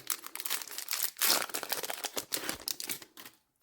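Crinkling foil wrapper of a Flesh and Blood Monarch booster pack ripped open up close, with bursts of crackling and tearing that fade into silence at the end.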